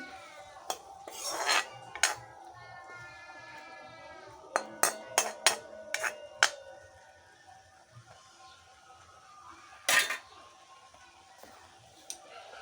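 A spoon knocks and scrapes against a pot while lychee chutney is stirred after lemon juice goes in, with a cluster of sharp clinks near the middle and isolated taps at the start and the end, all without speech.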